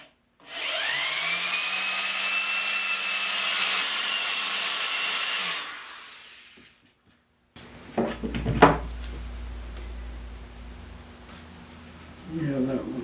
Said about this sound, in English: I'm going to use this round grinding stone to bevel the edges to hopefully keep that from happening again.